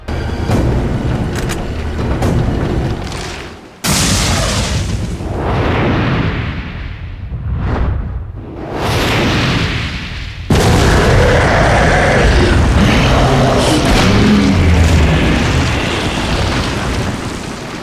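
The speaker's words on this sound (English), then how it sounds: "you'll be given a rocket launcher, courtesy of Ada, in order to finish him off once and for all" Rocket launcher blasts go off in the video game Resident Evil 4: several loud, booming explosions with rushing whooshes and long rumbling tails, spread across the stretch with no talk.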